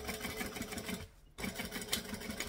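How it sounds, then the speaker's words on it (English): A sewing machine top stitching around a curve of a panel beach bag, its steady rapid needle rhythm running close, pausing briefly for about a quarter second, then resuming. "Alright, top stitching around the next curve."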